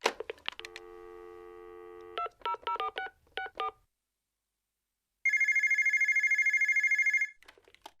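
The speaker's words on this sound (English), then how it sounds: "he phones the airport at Ballyvanich in Benbecula to book flights" A telephone call to an airport booking desk: a short run of touch-tone dialing beeps after a steady tone, then silence and a burst of electronic ringing pulses, clear and close, no talk.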